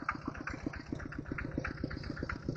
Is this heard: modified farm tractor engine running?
yes